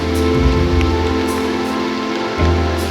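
Steady rain patters on a surface near a ravine in the Andes, a continuous hiss with scattered drops and a low background drone.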